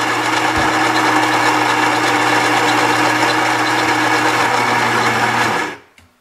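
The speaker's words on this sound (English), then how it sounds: "So first, grinding our beans." A Gaggia Brera espresso machine's built-in grinder grinds coffee beans with a loud, steady, buzzing whir that runs for over five seconds, then cuts off abruptly into quiet.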